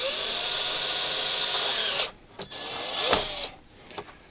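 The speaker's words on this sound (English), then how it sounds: "I'm going to carefully drill my hole straight down through" A power drill whines steadily for about two seconds while drilling a hole straight down through resin-casting vacuum chamber material, then stops and gives a few short bursts; nearby and moderately loud.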